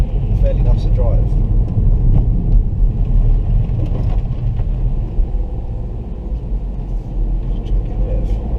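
A 2019 Ford Fiesta ST-Line MK8 four-door automatic drives along, a steady low engine and road rumble heard from inside the cabin, with a voice talking over it.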